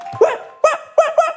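A man imitates a puppy on a Korean TV variety show, giving four short high yips in quick uneven succession, close and clear against a quiet studio.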